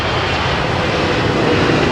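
An airplane arriving at London Heathrow Airport roars loud and steady as a broad, continuous engine rumble with no pauses, close by and with no voices over it.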